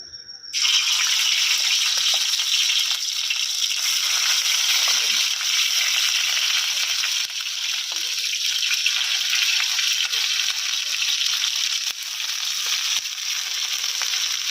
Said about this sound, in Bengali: পেঁয়াজ বাটাটা হালকা ভাজা হয়ে এসেছে